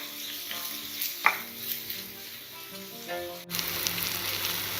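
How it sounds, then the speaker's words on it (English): Chopped spring onion sautés in a pot, a soft continuous sizzle broken by a few scraping stirs and a light clink of the spoon, with no voices. "Now we need to saute this for around 2 minutes."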